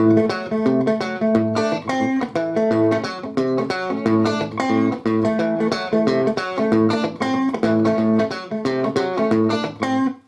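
An electric guitar strums chords in a steady, repeated rhythm, bright and close, with no talking over it.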